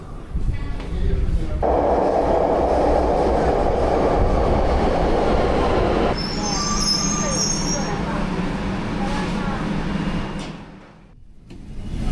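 A Beijing metro train runs with a loud rumbling roar that later eases to a steadier hum with high squeals, then dips briefly before rising again.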